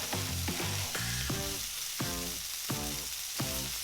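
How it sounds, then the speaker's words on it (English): Bacon sautéing in a pan for a Japanese spaghetti Naporitan dish gives a steady close sizzle and frying crackle, broken by rhythmic stirring scrapes roughly every half second, with no talk. "I'm gonna add the bacon and saute it for about a minute or 2"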